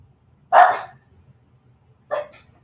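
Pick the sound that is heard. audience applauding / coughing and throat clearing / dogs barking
dogs barking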